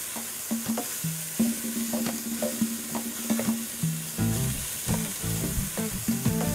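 Food sizzles steadily in a hot pan as it is slightly caramelised, with crackling fry noise punctuated by periodic scraping knocks of stirring.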